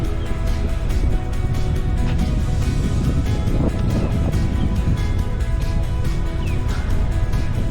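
Steady broadband wind rumble buffeting the microphone at Lake Okeechobee, Florida, loud and continuous throughout, with a low roar and no clear voices.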